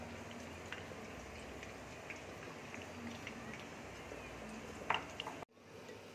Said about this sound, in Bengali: দেখো, পটলগুলো ভাজা হচ্ছে।